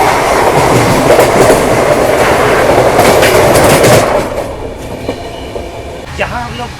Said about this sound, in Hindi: और अपनी मुलाकात अब होने वाली है वाराणसी मेरठ सिटी वंदे भारत एक्सप्रेस से